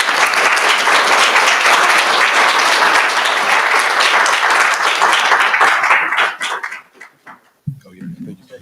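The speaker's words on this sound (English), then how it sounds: "Let's give a round of applause." A business competition audience applauds loudly and steadily for about six seconds, then the clapping thins to a few scattered claps and fades, with a brief bump of low noise near the end.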